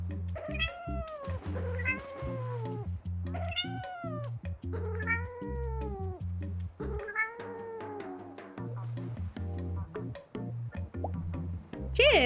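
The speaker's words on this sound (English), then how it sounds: "cat." A cat meows repeatedly, with drawn-out rising and falling calls coming in a steady series over low background music.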